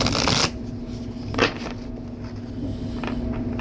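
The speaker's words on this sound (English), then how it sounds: "They fell while I was shuffling." Tarot cards being shuffled, a dense papery riffle up close that stops abruptly, followed by a few soft card taps and handling sounds against a quiet room.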